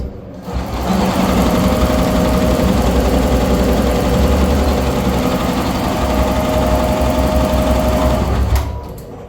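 A computerized embroidery machine resumes stitching, its fast, even mechanical whirr and tapping running loud and steady for several seconds before stopping at the end.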